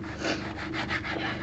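A knife saws back and forth through a loaf of bread, probably with a blunt blade, giving a steady rasping scrape of repeated strokes, close and continuous with no talk.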